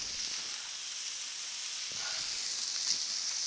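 Burgers sizzle steadily in bacon grease on a Blackstone griddle, a continuous close hiss and crackle of frying with no talk.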